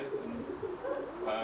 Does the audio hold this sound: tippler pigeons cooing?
yes